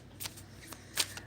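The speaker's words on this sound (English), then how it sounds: "let's start pulling cards, doing shuffles" Oracle cards being shuffled in a few quick riffling bursts, crisp papery flutters close by and fairly quiet, with no talking.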